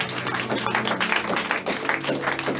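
A church congregation at a Sunday service claps together in a dense, steady burst of applause, with a faint low hum under it.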